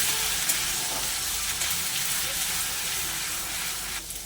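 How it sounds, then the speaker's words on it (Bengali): Onion paste sizzles and spits steadily in hot oil in a pan, a loud, close, continuous crackle that eases slightly toward the end. "পেঁয়াজ বাটাকে একটু আমি লাল লাল করে ভেজে নেব।"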